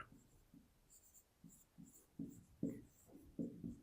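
A pen writing out a maths discount solution on paper, close scratchy strokes in short irregular bursts that grow denser and louder toward the end, alone without speech.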